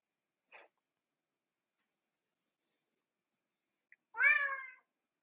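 A cat gives one clear, fairly close meow after a brief faint tick, set against near silence.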